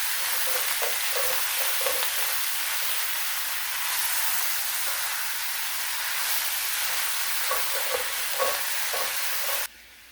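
Onions frying in butter hiss and sizzle steadily in a pan, with occasional scraping stirs of a utensil near the start and end, and no one speaking.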